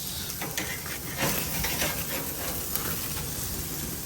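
A steak sears in a hot pan with a steady, loud sizzle and hiss, broken by faint stirring and shifting noises throughout, and no voices.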